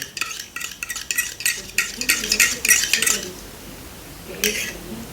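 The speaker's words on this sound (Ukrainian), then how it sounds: "Я це все діло перемішаю ще додатково" Stirring a cold milk cocktail sweetened with honey, a run of quick rhythmic clinks and scrapes close by for about three seconds, then a quieter pause and one short final burst of stirring.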